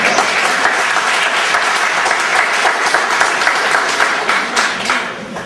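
Audience applause at a public gathering with Baba Ramdev: dense, sustained clapping from a large crowd, loud and continuous, tapering off slightly at the end.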